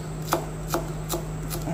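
A knife chops steadily on a cutting board, preparing garlic and ginger for a steamed fish with mushrooms: four evenly spaced, crisp taps at a moderate pace over a low background hum.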